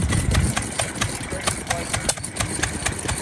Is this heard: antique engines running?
yes